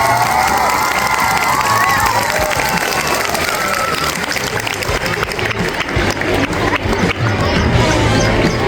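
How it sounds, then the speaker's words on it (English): A loud school ceremony crowd breaks into applause and cheering, with children's shouts and excited voices over steady clapping that stays full and close throughout. "Give him a huge round of applause."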